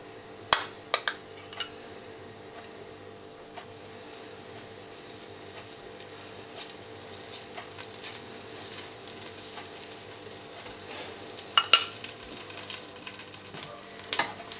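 A spoonful of butter melting over low heat in a pan for bechamel, a soft continuous sizzle with a few sharp utensil clicks at the start and later, quiet and close, no talk.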